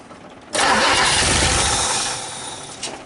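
A 1959 Ford Fairlane 500 Galaxy engine cranks and catches on its first start in over 20 years. It bursts into a loud, steady roar from near silence, holds, then eases slightly toward a rough idle.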